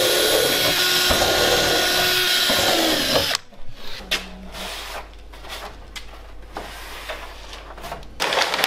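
Power drill driving ordinary self-tapping screws during a Nissan 200SX build, with a loud sustained whir for the first three seconds, then quieter intermittent bursts of the tool over a low steady hum.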